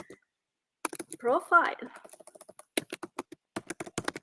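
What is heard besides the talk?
typing on a computer keyboard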